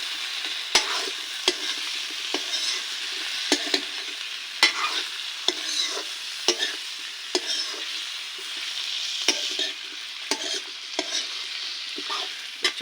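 Potato bhujia fries in a pan while a spoon stirs it, bright continuous sizzling punctuated by sharp, evenly spaced scraping clicks up close.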